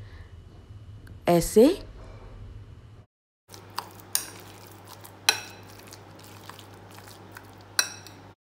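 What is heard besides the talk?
mixing and mashing paneer in a bowl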